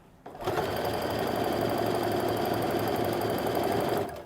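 A sewing machine runs steadily for about four seconds, close and loud, stitching quilt half-square triangles before stopping, with no talk.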